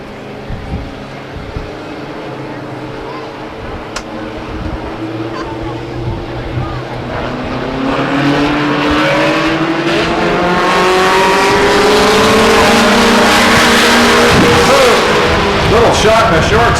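Race trucks launch at the start of a race at Stockton 99 Speedway, their engines swelling from a rumble into a loud, sustained roar as the pack accelerates, while an announcer talks over it.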